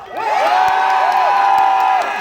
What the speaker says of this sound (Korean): 박수 함성 주세요.